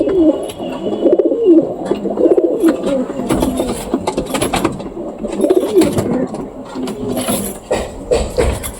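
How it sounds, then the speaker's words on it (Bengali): A black Huma pigeon gives soft, rolling coos close by, mixed with rustling and clicking handling noises and brief talking. "তো এখন আমি দেখাবো হুমা কবুতর।"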